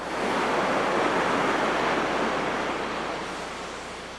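Ocean surf breaking where Kilauea lava streams pour into the sea at sunrise, a steady loud wash of crashing water and hiss that swells early and slowly eases off, with no voices.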